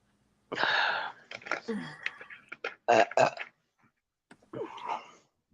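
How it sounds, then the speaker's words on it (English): A loud, drawn-out burp rumbles up, followed by a few short vocal bursts and a brief pause before another sound. "I burped."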